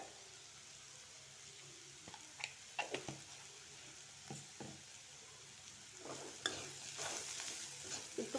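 Pumpkin pieces frying in oil with salt and turmeric, a steady soft sizzle under intermittent scraping and stirring clatters from a spoon against the pan, close and moderately quiet.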